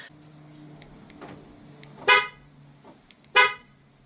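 A car horn gives two short chirps about a second apart as key fob buttons are tested, loud against quiet background noise with a faint hum.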